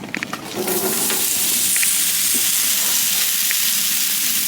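Potatoes fry in a pan for a breakfast hash of home fries. A loud, steady hiss of sizzling oil starts after a brief moment and continues evenly to the end.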